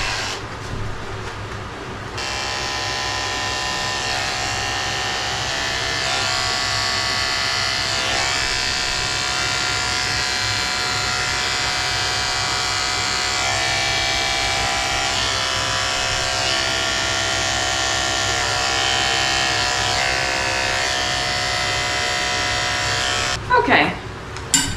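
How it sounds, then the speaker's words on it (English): Electric dog clippers buzz steadily and loudly for a long stretch while shaving a Shih Tzu's feet at a grooming session, a constant whine with faint talk in the background and a few clicks near the end. "now I have to go back and shave her feet"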